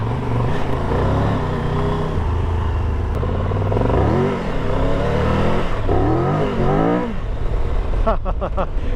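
A 2022 Triumph Tiger 1200 Rally Pro motorcycle engine revs and accelerates, its pitch rising and falling in surges, close and loud, with a burst of sharp revs near the end.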